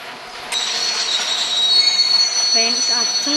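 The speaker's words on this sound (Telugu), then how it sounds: "ఇప్పుడు బ్రేక్ సౌండ్ వినండి." In the video game Indian Bike Driving 3D, a high, sustained metallic squeal of train brakes rises and holds, with rail clatter and a faint voice underneath near the end.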